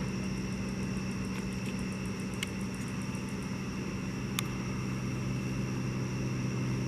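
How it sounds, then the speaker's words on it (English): A rotor plane circles overhead above a house in Wauwatosa on a night of riots, giving off a steady, moderately distant engine drone with a low rumble and a few faint clicks, and no one talking. "That's the plane doing a round"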